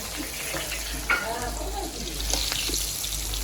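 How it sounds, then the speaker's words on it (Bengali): Meat is fried and stirred in a pan for kosha, giving a close, continuous sizzle broken by scraping stirring strokes. "আমি তাহলে মাংসটা ভালো করে রান্না কষা কষা করে করে নিই"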